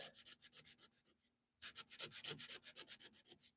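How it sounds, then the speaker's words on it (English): Rough sandpaper is worked by hand over teak wood in quick, close, rhythmic rasping strokes, a brief pause splitting two bursts, with no voices. "I like to take a little bit rougher sandpaper and clean out the grain"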